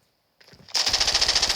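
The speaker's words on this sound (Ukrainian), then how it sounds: "От, стрільба йде" A short lead-in of rustling leads into rapid, loud machine gun fire in a video game firing range, sustained automatic bursts with a steady rattling rhythm.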